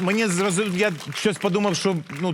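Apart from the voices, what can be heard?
No distinct noise like a dog, phone or traffic.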